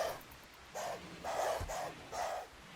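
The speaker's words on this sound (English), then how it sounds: "Plus, the cobras are like making barking noises." Cobra creatures in a video game make dog-like barks, four or five short, clear barking bursts in quick, uneven succession.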